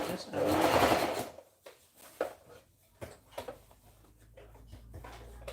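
Sewing machine stitching fabric for a dress, a burst of machine whirring followed by quieter intermittent clicks and handling sounds, close by, with a voice speaking over parts of it.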